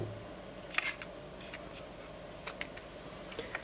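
Small mechanical clicks and ticks from loading film into a Minolta Hi-Matic G film camera, a few sharp close snaps spaced irregularly over a quiet background.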